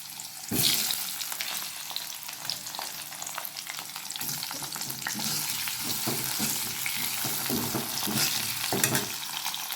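Radish and potato pieces fry in oil with a loud, continuous close-up sizzle and crackle, with occasional stirring scrapes mixed in.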